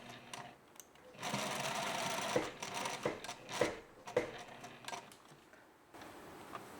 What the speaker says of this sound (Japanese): 仮止めをしたポケットの上下はその真上をミシンが通るように縫ってください